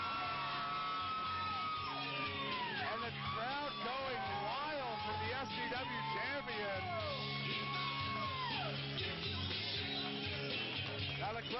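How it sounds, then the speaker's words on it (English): Crowd at an FGW professional wrestling show cheering and yelling loudly throughout, a dense continuous roar of shouts and whoops with voices rising over it. "And the crowd going wild for the FGW champion."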